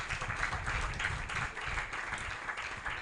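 Church congregation applauding during a worship service, steady dense clapping from many hands at moderate distance, continuing throughout with no other sound standing out.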